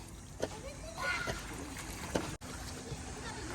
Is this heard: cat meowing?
no